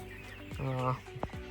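BV380 chickens, about four hundred on a poultry farm, cluck and murmur close by in a brief burst of calls, overlapping one another.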